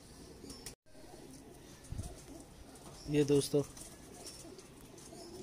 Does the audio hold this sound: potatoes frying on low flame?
no